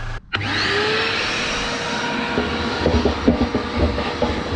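A loud, steady whooshing blast of air roars continuously after a brief pause as a vacuum cleaner filter is blown out, with faint rattling and clicking underneath.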